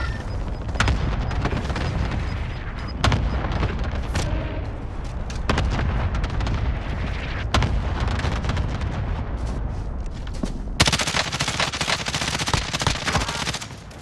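A Call of Duty firefight with sustained machine-gun fire, heavy booming artillery impacts and explosions rumbling throughout, loud and continuous, with a sharper blast of noise near the end.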